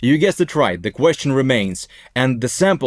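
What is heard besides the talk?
None of the usual background noises is heard.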